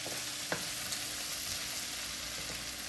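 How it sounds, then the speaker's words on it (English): Ramps frying in a pan with potatoes for a country-style skillet dish, giving a steady soft sizzle throughout with a brief stirring scrape near the start; no talking. "Just stir them around in here. They get all wilted and fried up in the potatoes."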